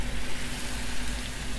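Salmon fries in hot oil in a pan, giving a steady, close hiss of sizzling with no pauses.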